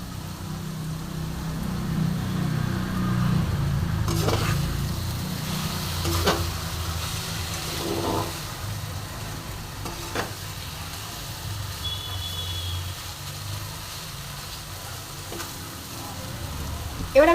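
Spice paste for a bitter gourd and potato mustard curry sautéing in a pan, a steady close sizzle broken by a few sharp, evenly spaced scrapes of stirring over a low background hum.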